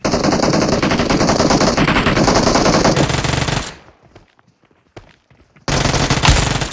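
Rapid automatic gunfire in the PUBG Mobile battle royale game, loud dense sustained bursts that stop for a quiet stretch of scattered shots and steps, then resume abruptly.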